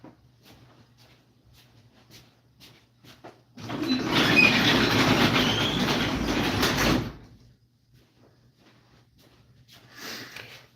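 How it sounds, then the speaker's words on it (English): A door swings shut in a room where people are chatting, giving a loud, broad rush of roughly three seconds, much louder than the quiet room noise before and after. "Oh, close the door."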